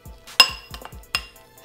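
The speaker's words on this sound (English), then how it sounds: "And now we're gonna mix everything together." Turkey taco filling with lime and salt being mixed in a pan, a run of sharp utensil clinks and scrapes against the cookware, close and fairly loud, several distinct knocks with no talk.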